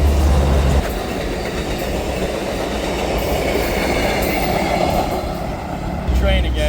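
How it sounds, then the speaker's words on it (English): A train rumbles past nearby, with a loud, steady roar and rolling wheel noise that fills the whole clip and peaks at the start and end, with no speech. "Train again."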